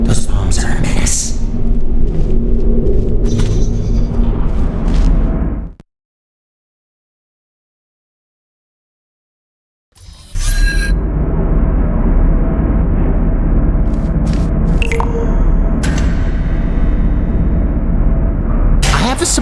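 Bombs going off in Portal: Revolution, heavy booming blasts and rumbling debris that cut to total silence for several seconds before another loud burst and ongoing crashing resumes.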